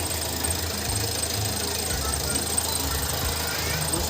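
A low-power Hyundai Accent engine runs steadily nearby with a rough, knocking, rattling idle, the mechanical clatter continuous throughout with voices faintly under it.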